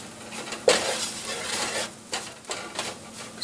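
A flour and oil roux being stirred in a pan, a steady scraping swish with a sharper clink near the start and soft rhythmic strokes, close and alone with no talk.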